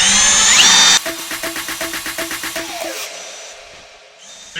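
A power drill whines loudly at full speed, then bites in with a rapid pulsing chatter for a couple of seconds drilling a pilot hole for an outboard motor bracket on a sailboat, before spinning down and stopping.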